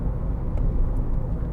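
A 2013 Nissan Note 1.5 dCi diesel pulls along steadily after a gear change, its low, even engine drone and road rumble filling the cabin without pause.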